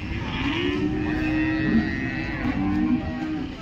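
A cow moos loudly and steadily at a cattle market, one long low call held close by for the whole stretch with no talk over it.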